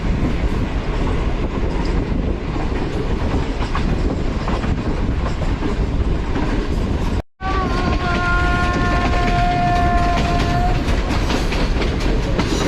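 Train departing Lala Musa Junction railway station on the Green Line Express, with a steady loud rolling rumble throughout, a brief dropout near the middle, then sustained tonal brake or wheel squeals over the continuing rumble.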